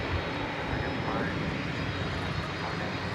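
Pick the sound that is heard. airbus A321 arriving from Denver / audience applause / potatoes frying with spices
airbus A321 arriving from Denver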